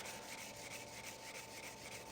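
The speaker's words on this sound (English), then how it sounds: "start sanding down the finish here" Sandpaper rubbing down a Tru Oil finish on a wooden self bow, a soft, steady, close scratching in quick back-and-forth strokes, faint and hissy with no talking.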